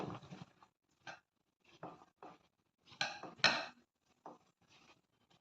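Sliced onions being mixed into chickpea flour in a bowl by hand, heard as a series of short, quiet, separate clinks and scrapes against the bowl with brief silences between them.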